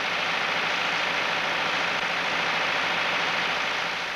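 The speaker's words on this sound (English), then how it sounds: "PTO speeds and engine performance are checked to ensure they too meet the necessary specifications." An International Harvester tractor engine runs steadily through performance and PTO speed testing, giving a constant, loud, even roar with no pauses.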